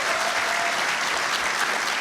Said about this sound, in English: Let's give a warm applause to